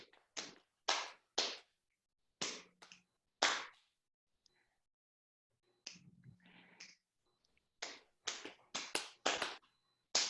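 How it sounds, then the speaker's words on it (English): Sharp finger snaps and hand claps in a playful yoga-class rhythm, close and crisp, in quick groups broken by short pauses. "snap, clap, snap, clap"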